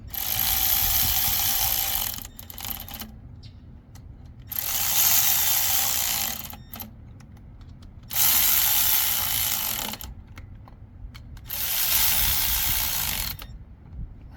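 Ratchet wrench clicking as it runs down the 10mm ignition coil bolts on a Polaris Slingshot, heard as four loud bursts of rapid close clicking with short quiet gaps between, no talk.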